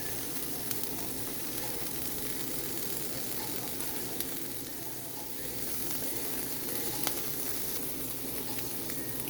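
Lamb and vegetables, including asparagus, sizzle in a pan as lemon juice goes in, producing a soft, steady hiss with faint clicks and a short dip midway.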